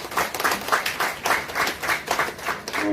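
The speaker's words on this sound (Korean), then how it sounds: "박병훈 박사님께 한 번 더 큰 박수 부탁드리겠습니다" A lecture audience at a brain-health and neurofeedback talk gives the guest scientist a final round of applause: dense, steady clapping with a slightly pulsing rhythm, moderately loud throughout.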